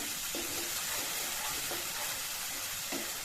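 Masala spices being mixed and fried in oil in a pan, a steady broad sizzle with a few soft scraping stirs recurring at intervals, close and continuous with no talking.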